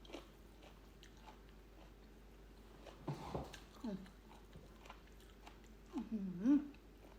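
Someone eats Thai peanut salad by hand, with faint close chewing and a few scattered crunchy bites over a quiet background, plus some soft mouth noises.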